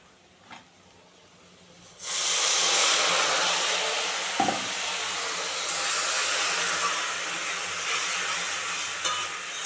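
Water poured onto hot fried spice paste for a home-style chicken curry bursts into a loud, steady sizzle that starts suddenly and keeps hissing without letting up, with no voices.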